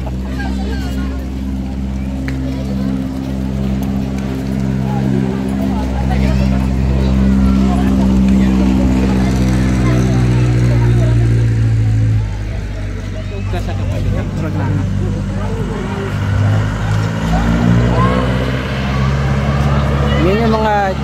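Jeepneys carrying passengers rumble past on a hillside road near a park, a steady low engine drone lasting throughout while people talk nearby.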